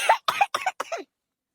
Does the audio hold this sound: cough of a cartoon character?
yes